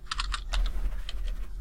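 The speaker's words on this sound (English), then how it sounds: "Pardon my slow typing." Slow typing on a computer keyboard, a few bursts of clicky keystrokes with gaps between them, close and alone with no voice over it.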